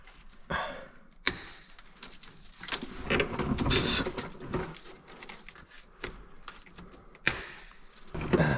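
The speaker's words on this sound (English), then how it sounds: "I'm gonna cut these bars." Metal bars are being cut on a Cat C13 truck job, with sharp cracking snaps and clanks between stretches of grinding, rasping noise, and a few loud hits standing out.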